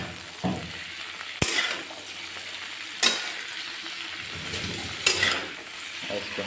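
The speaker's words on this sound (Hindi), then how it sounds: "ये देखिए हम लोग नमक डालेंगे, और इसको हम लोग अच्छी तरह से चलाएँगे।" Vegetables sizzling in a pan as they are salted and stirred, a steady close fry with several sharp metallic scrapes from the stirring spoon, no speech.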